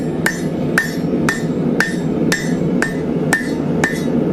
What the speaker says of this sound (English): all I'm doing is sliding it a little forward and hammering on it